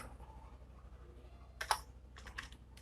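Soft keyboard typing as a Wi-Fi network name is entered on an Orange router settings page, a quick cluster of keystrokes over a steady low hum, fairly quiet and close.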